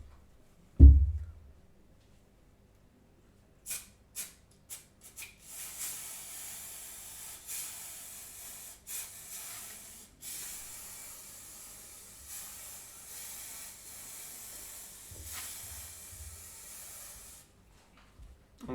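Aerosol spray adhesive hissing onto a model railway scenery base in bursts: a few short sprays, then a long steady hiss with brief gaps, close and moderately loud, no talking.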